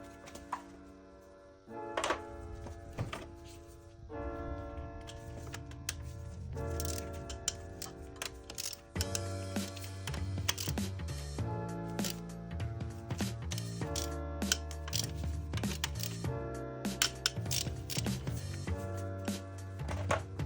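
A hand ratchet loosens 10 mm bolts on the engine of a 2000 Honda Civic EX during a head gasket job, giving rapid, steady clicking in close-up bursts that run for nearly the whole stretch, with faint metallic knocks between them.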